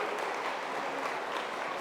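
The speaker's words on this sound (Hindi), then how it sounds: "जोरदार तालियां बजाइए" An audience of schoolchildren and staff claps at a yoga workshop at a school in Aligarh, India, a dense, steady burst of applause heard close and evenly throughout.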